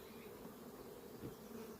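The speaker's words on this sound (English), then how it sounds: "we'll shake the bees back in with it" Honey bees droning steadily inside an open hive during queen-rearing work with a small three-frame starter box, a dense continuous buzz at close range with no voices.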